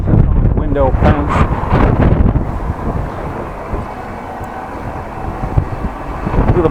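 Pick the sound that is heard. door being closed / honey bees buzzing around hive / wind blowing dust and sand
wind blowing dust and sand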